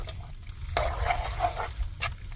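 Smoked mac and cheese being stirred in a pan, with soft wet squelching and scraping pulses and a couple of sharper clacks from the utensil, close and unaccompanied by speech.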